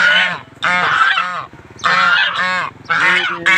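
Geese honk loudly and close by in repeated bursts of harsh, nasal calls separated by short pauses.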